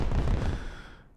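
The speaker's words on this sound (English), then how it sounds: "I have still some firework here." A single firework goes off with a loud close bang and then a rumbling boom that fades out over about a second.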